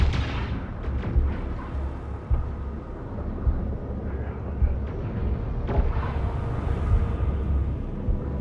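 Ship guns firing in the space strategy game Homeworld 3, heavy repeated booms and thuds rolling under a constant low rumble, loud and sustained with no talking.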